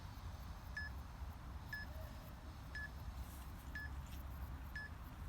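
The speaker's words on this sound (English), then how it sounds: "I'll get our timer going." A workout interval timer for a TRX upper body and core session gives five short, evenly spaced electronic beeps about one second apart, faint and thin over a low background rumble, with no talking.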